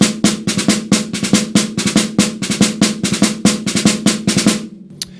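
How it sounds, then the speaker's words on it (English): Snare drum playing a French military rudimental pattern built on the rigidon stroke with drag taps, a crisp repeating figure of flams and rolls at steady tempo, loud and close, stopping abruptly near the end. "It is called coup de la rigidon, the rigidon stroke"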